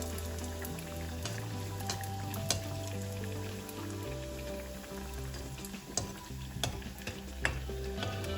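Pathiri fries in hot oil while oil is splashed over its top, making a continuous close sizzle with a few sharper spatters near the end, set beneath soft background music.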